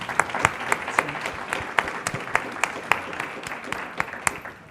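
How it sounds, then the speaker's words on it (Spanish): Audience applause at a fashion event, steady clapping from a crowd with a few sharp, close claps standing out over the general patter. "Un aplauso."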